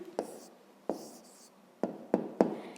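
Pen writing out the answer to a math problem on paper, in a few short scratching strokes with quiet pauses between them, close and soft.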